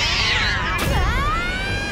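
Cartoon cats meowing and yowling, a single drawn-out, bending cry rising over a busy background mix with a brief clatter partway through.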